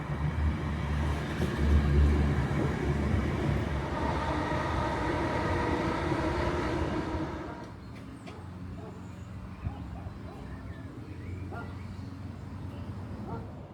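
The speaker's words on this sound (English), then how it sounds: "we shall be leaving on the 1400 ScotRail service to our final station by train, Balac" A ScotRail passenger train rolls along the line with a loud rumbling roar that drops to a quieter, steadier rattle partway through.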